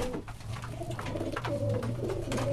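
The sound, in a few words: pigeon cooing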